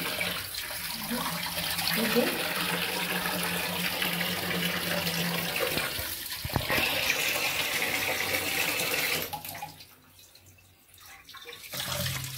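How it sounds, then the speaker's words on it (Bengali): Water from a tap runs steadily while fish are rinsed, a continuous close rushing stream that drops away near the end. "বন্ধুরা মাছগুলো ভালো করে ধুয়ে নিচ্ছি।"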